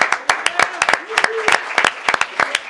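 Scattered, uneven clapping from a modest crowd honoring teachers and principals, with individual claps standing out and voices calling out between them.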